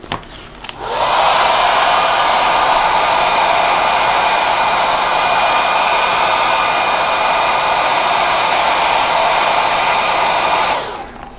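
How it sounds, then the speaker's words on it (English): A hair dryer blows on wet paint for about ten seconds, a loud, steady whoosh that starts abruptly and cuts off at the end. "I'm going to dry it."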